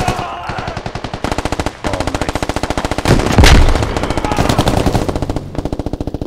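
Rapid automatic gunfire in the military shooter game Squad rattles out in loud, tightly spaced bursts, nearly continuous apart from a short pause, with the heaviest volley in the middle.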